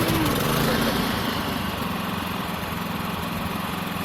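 A Predator 3500 inverter generator runs close by with a steady, fairly loud engine drone and a mid-pitched hum that holds level throughout.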